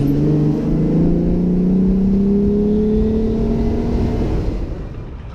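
A 4x4 cruises along a Baja California highway near Tecate, a steady engine drone with gently rising tonal whine and tire rumble, fading slightly at the end.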